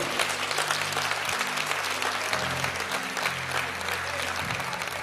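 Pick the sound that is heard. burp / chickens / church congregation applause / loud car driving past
church congregation applause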